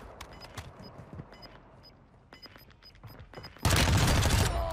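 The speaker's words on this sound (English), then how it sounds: "There was somebody else over here shooting at me." In the video game Warzone 2, scattered sharp gunshots crackle from a distance, with a tone beeping repeatedly. A loud burst of rapid fire then erupts close up.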